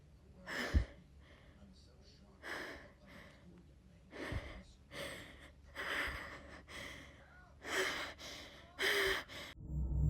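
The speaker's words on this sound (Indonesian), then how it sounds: "si mbaknya sampai ngos-ngosan gitu cuy" A woman pants heavily in the middle of a panic attack, a series of loud, ragged gasping breaths coming in uneven bursts, close to the microphone, with no talking.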